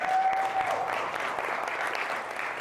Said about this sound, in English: Give God a round of applause for that one.